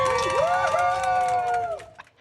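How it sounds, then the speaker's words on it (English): Airplane passengers cheer and whoop together inside the cabin mid-flight, a bright crowd of voices rising loudly for a couple of seconds before fading out. "why are people cheering like that?"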